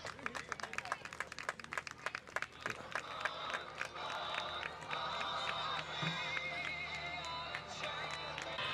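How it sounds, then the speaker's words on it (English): Crowd at a Guns and Hoses charity softball game breaking into sustained applause and cheering, building from scattered claps into a steady, dense ovation, with a voice faintly heard over it. "Let's give him a round of applause and hope that he gets better."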